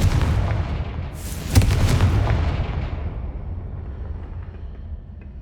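A magical Confringo blast spell from Hogwarts Legacy erupts into a booming explosion, one sharp crack followed by a rumbling, fading tail that dies away over several seconds.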